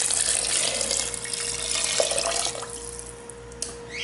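Water pouring, 900 ml pulled into a pot of beef stew, a bright splashing stream that is loud at first and then thins and fades toward the end, with no voices.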